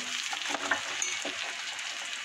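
Cut vegetables frying in a pan with already-fried onion and fish heads, stirred around: a steady, close hiss of sizzling oil with soft scraping stir strokes, no talking.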